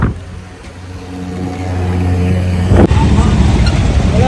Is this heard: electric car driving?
yes